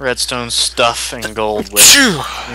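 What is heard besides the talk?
sneeze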